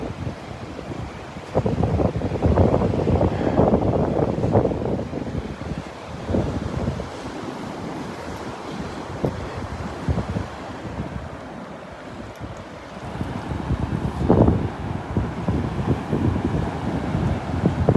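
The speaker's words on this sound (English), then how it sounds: "Boy, it's getting windier up here towards the pass." Strong gusty wind buffets the microphone on the beach near Wiggins Pass at Delnor-Wiggins, with surf breaking underneath in loud rushing surges that ease midway and build again.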